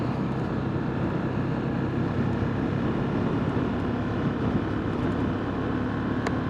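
A 2022 Zontes GK350 motorcycle rounding a roundabout in third gear at about 25 mph in eco mode, its engine and wind noise forming a loud, unbroken drone throughout with no talking.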